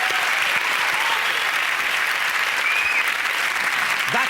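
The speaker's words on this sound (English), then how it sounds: "With a round of applause for everyone involved." Studio audience at a TV comedy panel show applauding, a dense, steady wash of clapping at full volume that fills the whole moment.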